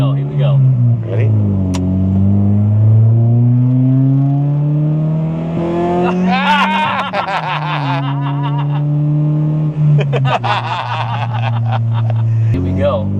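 A budget-build Honda Prelude engine revs hard and climbs into VTEC, its droning note rising in pitch over several seconds, mixed with close voices talking and laughing.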